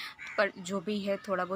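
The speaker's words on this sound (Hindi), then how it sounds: "यहाँ पे ना ये कौवा बहुत बोल रहा है" A nearby crow gives a few harsh caws over someone speaking. The calls are brief and come in a short series.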